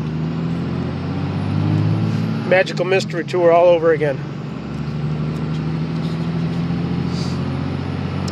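Cummins diesel truck with a five-speed gearbox driving in third gear, a steady low engine drone running throughout, with someone talking over it partway through.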